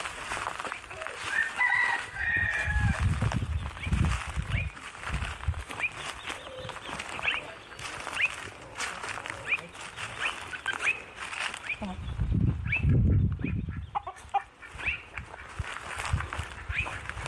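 Pickwick the rooster clucks in short, faint, scattered calls close by. A crow may be in there too, with rustling and handling noise as he is caught, and low sounds from people in between.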